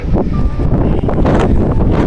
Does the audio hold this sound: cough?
no